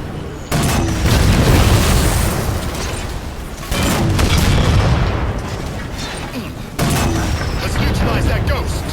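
Gunfire and heavy booms in the Halo 4 campaign: thick rumbling blasts hit in about three waves amid sustained shooting and mechanical noise, loud and close, with voices talking over the combat.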